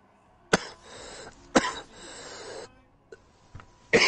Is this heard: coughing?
yes